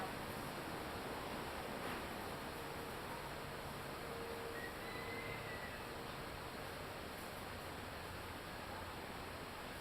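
Steady, soft rushing breath like distant surf, continuous and even throughout with no talking, resembling ocean-like yogic breathing.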